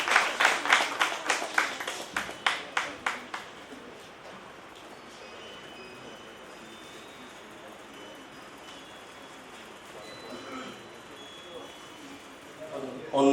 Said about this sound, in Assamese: সকলোৰে এটা জোৰদাৰ হাত চাপৰি বিচাৰিছোঁ আকৌ এবাৰ।